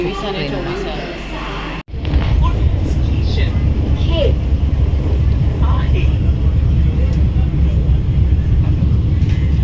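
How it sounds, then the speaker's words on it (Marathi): Steady, loud rumble of a Vande Bharat express train pulling out of Panvel station on the Konkan route, heard from inside a crowded coach after a brief pause. Faint voices murmur beneath the continuous travel noise. "ट्रेन अगदी ना राईट टाईमला सुटली साडेसहा वाजता"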